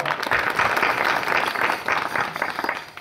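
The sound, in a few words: audience applause at kirtan welcoming musicians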